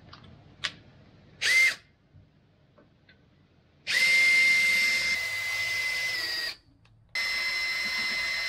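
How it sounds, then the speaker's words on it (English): A power drill fitted with a 7mm bit bores holes while mounting hydrofoil hardware. Two long, loud whirring runs sit close to the mic, each lasting a second or more, with a short burst and quiet pauses in between. "Seven mil drill."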